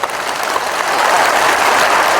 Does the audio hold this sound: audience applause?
yes